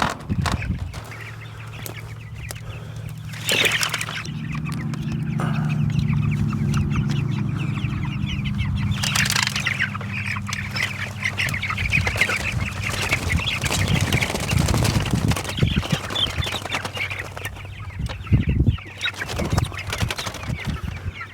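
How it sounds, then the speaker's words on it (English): A flock of young chickens out on pasture clucks and cheeps continuously, with overlapping calls fairly close by over a steady background hum and occasional handling noises. "we've officially got the self-processing chicks out to pasture"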